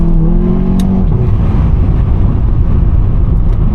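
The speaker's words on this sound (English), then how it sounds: "it maintains the stock exhaust tone, and that for me just goes a long way." Volkswagen Golf 7.5 GTI with a full exhaust system keeping the stock exhaust tone, heard as a loud, steady low engine drone from inside the car while driving, with no one talking.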